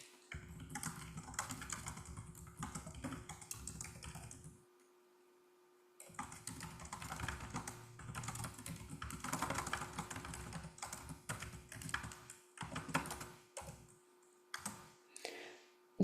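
Typing a note on a computer keyboard: rapid clustered key clicks in bursts, close and quiet, with a brief pause near the middle and scattered final taps under a faint steady hum.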